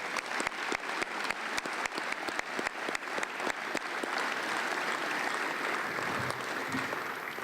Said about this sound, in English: I think we should give a round of applause for everybody that was honored tonight